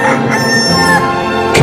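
A rooster crows loud and close in one long, continuous call that fills the whole moment.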